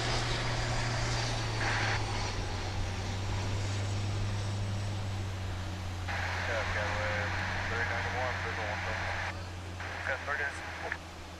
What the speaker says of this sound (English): It's an A321, American flight